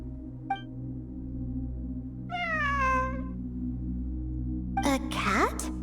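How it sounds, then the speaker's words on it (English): A cat meows in an exploration game set among ruins during a mystery-realm event, two or three drawn-out mews rising then falling, moderately near over a steady low ambient hum, with a fainter chirp-like call at the end. "A cat?"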